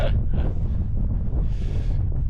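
Strong, constant wind roaring across the microphone at an exposed campsite beside a Fjallraven Abisko 2 tent, a loud low rumble with brief gusting swells and no voices.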